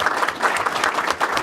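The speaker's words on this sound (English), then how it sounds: "Round of applause for these guys" A breakfast crowd at a chamber legislative event breaks into steady applause, dense clapping from many hands filling the room at an even level with no talk over it.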